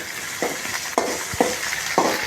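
Onions, large ones, frying in a pan for mutton curry, with steady sizzling broken by four short stirring scrapes about half a second apart, close and moderately loud with no talk.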